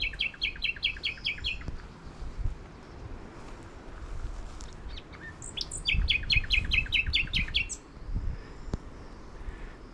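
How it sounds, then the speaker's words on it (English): Nightingale singing outdoors in France: two bursts of rapid repeated high chirping phrases, moderately close, over wind and low rumbling background, no talk. "I believe this is a nightingale singing."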